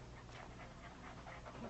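A dog, a stray female, pants quickly and rhythmically close by, each breath a soft airy rasp, steady and fairly quiet with no talking.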